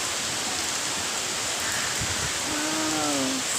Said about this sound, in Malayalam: മഴയൊക്കെ പെയ്യുന്നത് നോക്കിയാൽ എന്തൊരു മനോഹരമോ